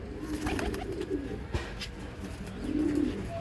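Pigeons coo in low, soft bursts, with a faint clack midway and a fuller cooing phrase near the end, without talk.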